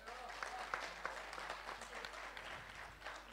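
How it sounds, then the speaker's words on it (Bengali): An evening book fair audience claps together in a soft, steady round of applause heard from a distance, with some faint voices mixed in. "আপনাদের যদি আজকের অনুষ্ঠান ভালো লেগে থাকে ছোট্ট করে একটু করতালি দিতে পারেন"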